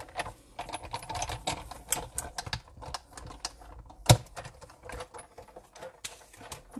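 A Big Shot die-cutting machine runs paper labels through its rollers in a crafting session, making a rapid run of clicking and clattering mechanical taps throughout with one sharp loud clack partway, close and without talk.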